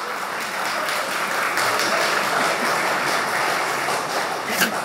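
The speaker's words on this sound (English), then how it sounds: "So, shall we clap?" Audience at a financial planning and investment advisory talk clapping together, a full, continuous burst of applause throughout.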